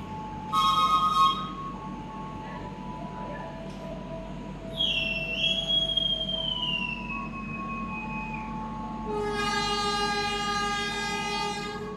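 The Fajar Utama Solo economy train rolls along the rails with a steady low rumble, broken by a near horn blast at the start, a long squealing screech in the middle, and a second multi-tone horn near the end.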